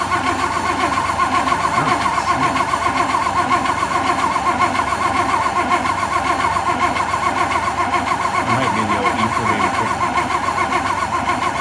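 A 1956 Oldsmobile engine with a Rochester four-jet carburetor cranks over steadily for several seconds, a loud continuous rhythmic churning of the starter motor without catching, and no talking.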